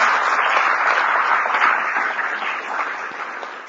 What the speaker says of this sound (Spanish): le voy a pedir un fortísimo aplauso para Eduardo